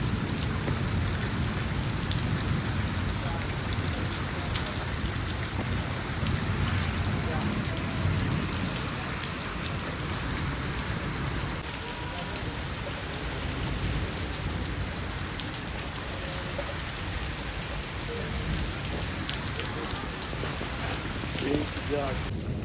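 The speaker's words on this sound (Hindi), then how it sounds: "देखो कितनी तेज़ बारिश है।" Steady heavy rain pours down continuously, a dense hiss of drops striking surfaces, with faint distant sounds underneath.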